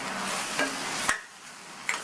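A spoon stirs sautéed tomatoes and mint leaves in a pan, a soft sizzle running throughout with a few brief scraping clinks against the pan, close and alone.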